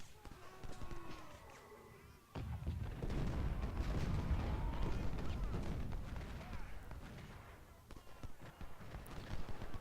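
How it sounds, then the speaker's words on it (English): Distant artillery booms and rumbling blasts roll through a Civil War battle in a video game, layered with scattered gunfire and someone talking over the steady din. "So a lot of times you see artillery shells sort of going all over the place"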